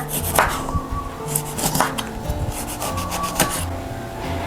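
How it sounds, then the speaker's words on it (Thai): Repeated knife strokes chopping a lime on a wooden board, close up, with crisp cuts and scraping, over a faint steady background hum. "และมะนาวค่ะ ให้เราหั่นมะนาวนะ"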